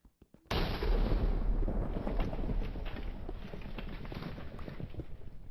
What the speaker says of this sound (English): I kind of just want to go deeper so that I can't hear the thunder anymore.